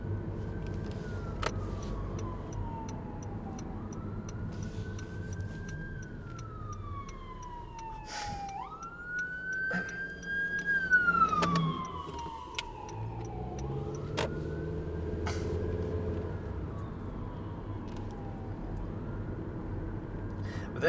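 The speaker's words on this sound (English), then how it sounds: "Can you hear that siren?" A wailing siren rising and falling in long sweeps, moderately distant, over steady traffic rumble with occasional clicks.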